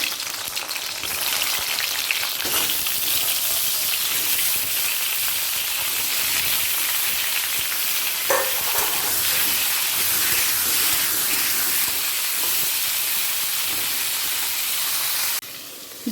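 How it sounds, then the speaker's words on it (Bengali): Pointed gourd (potol) pieces frying in mustard oil in a pan, a constant loud hissing sizzle throughout with a brief clatter midway, ending abruptly. "এক টেবিল চামচ সর্ষের তেল দিয়ে দিলাম দিয়ে একে একে পটলগুলোকে তেলের মধ্যে ছেড়ে দেবো"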